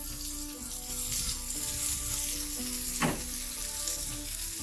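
Burger patties frying with a steady, loud hiss and crackle that runs throughout, plus a brief higher squeak or scrape partway through.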